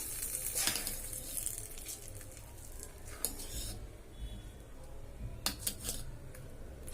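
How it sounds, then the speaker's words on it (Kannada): Tempering for chutney sizzles steadily in hot oil, a close, continuous crackle with a few sharper bursts and spoon clinks, and no talking. "ಇದಕ್ಕೇನದ ಒಂದು ಒಗ್ಗರಣೆ ಕೊಟ್ಬಿಡೋಣ."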